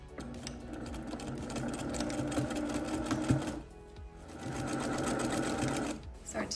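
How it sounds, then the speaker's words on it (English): A sewing machine joins quilt blocks to a sashing strip for a baby quilt, running in two steady bursts with a short pause between them. "we're gonna sew it right sides together to it, joining our top 2 blocks"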